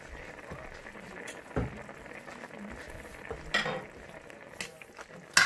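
Pork with tomato, green beans and lime juice is stirred in a frying pan. Quiet scrapes and occasional utensil clinks sit over a faint, low sizzle.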